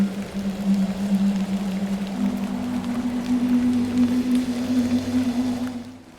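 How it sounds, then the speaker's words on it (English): Rain falling in the video game Hob's Barrow, a soft steady hiss under a low sustained ambient drone, even and continuous throughout with no speech. "Little rain is no bother."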